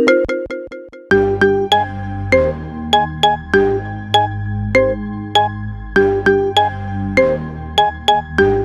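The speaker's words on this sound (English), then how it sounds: "Get this hot ringtone for your phone now." iPhone ringtone playing a marimba remix of a song, bright plucked marimba notes in a bouncy repeating melody over a deep bass line, loud and clean with no voices.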